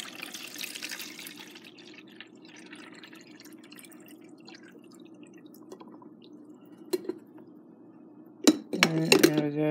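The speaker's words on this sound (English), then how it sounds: "And then pour the water and then you can get the coffee started." Water poured into a home coffee maker, soft trickling and dripping at first, then a few glassy clinks and a louder splash of pouring near the end.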